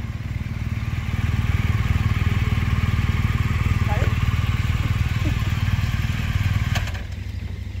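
A motorcycle ridden with a biker club in Johannesburg, its engine a steady, close, loud rumble throughout that eases off near the end, with wind noise and no talk.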